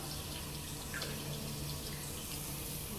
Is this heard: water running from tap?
yes